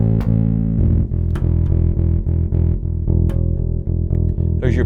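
Bass guitar played through a SansAmp GED 2112 preamp with light drive, giving a loud, gritty, sustained low tone. Notes change at a steady rhythm and there are a few sharper picked attacks, with no talking.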